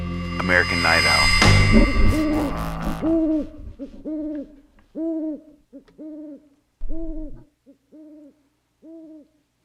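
An owl hoots in a steady series of about eight evenly spaced, clear two-part calls at moderate distance, following a burst of louder mixed sound at the start.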